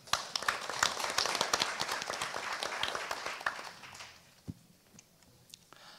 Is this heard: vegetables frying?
no